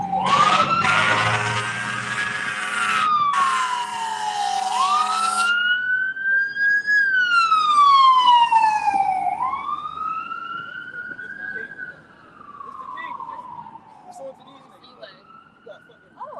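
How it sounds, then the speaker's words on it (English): Loud wailing sirens rise and fall in long sweeping tones in Cleveland, several overlapping, with rumbling traffic beneath and no talk. "Sirens and all type of noises"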